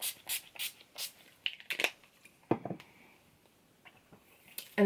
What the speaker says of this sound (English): And then again, a spray, just to set the highlighter.